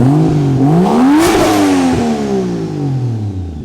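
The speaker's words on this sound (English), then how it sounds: "Give her some revs." Toyota Supra engine fitted with a Garrett 3582 turbo, stock ECU and close to 500 horsepower on pump gas, revs sharply up from idle and falls back again, loud and close with no one talking.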